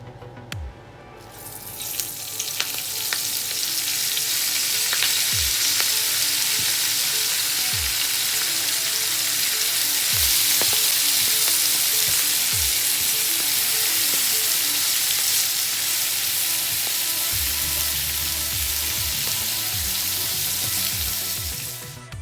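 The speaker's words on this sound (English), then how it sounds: "now I'm taking the baby spinach and I'm using that same bacon grease to" Baby spinach frying in bacon grease in a pan, with a loud, steady sizzle throughout, a few soft clinks and stirring knocks, and no talking.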